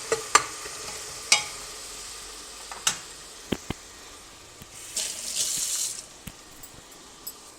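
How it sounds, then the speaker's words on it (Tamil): Ginger, garlic and green chili paste sautéing in a pan for a vegan protein biryani, with sharp spatula clinks and scrapes at irregular intervals and a brief surge of sizzling midway, close and fairly quiet. "இஞ்சி பூண்டு பச்சை மிளகாய் பேஸ்ட்டு வந்து போட்டு நல்லா ஒரு 10 நிமிஷம் வதக்கிட்டோம்"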